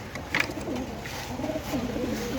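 Kaldom and Teddy pigeons coo softly in a loft, with a few low, rolling coos close by and a brief flutter-like rustle near the start.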